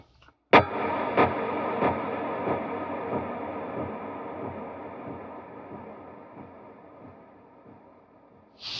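An electric guitar through an ambient effects snapshot: a single chord rings out with rhythmic echo repeats pulsing underneath, gradually fading over several seconds before another note cuts in at the end.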